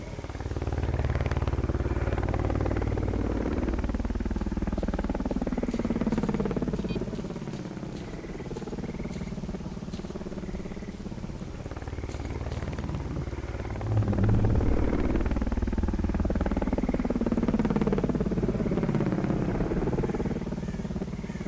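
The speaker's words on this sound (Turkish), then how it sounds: "Helikopter uzaklaşıyor." Helicopter flying away in the S.T.A.L.K.E.R. Call of the Zone video game, a continuous rumbling rotor drone with rhythmic thumping, steady and fairly loud throughout with a slight swell midway.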